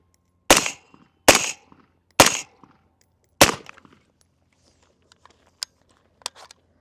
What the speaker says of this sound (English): we're gonna take another 5 shots